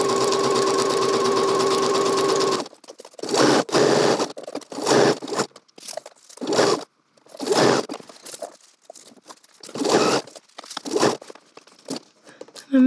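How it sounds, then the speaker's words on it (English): A sewing machine stitches around a pocket bag, a close steady whir for over two seconds, then short bursts of fabric handling and scraping as the material is pivoted and adjusted. "put the presser foot back down, and then continue stitching."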